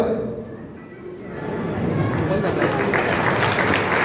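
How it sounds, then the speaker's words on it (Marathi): A crowd at a political party workers' rally in Sangli breaks into applause, the clapping swelling after a brief lull into a loud, sustained wash of hands, with a voice talking over it. "तिला जोरदार टाळी होऊ दे शहरा साहेबांच्यासाठी"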